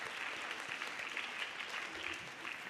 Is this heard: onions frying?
no